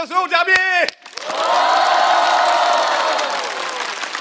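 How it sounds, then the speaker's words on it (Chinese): A studio audience at a roast comedy show bursts into cheering and applause for the guests, a sustained loud roar of clapping and whoops that follows a brief spoken line at the start. "来，让我们再一次掌声欢迎所有嘉宾。"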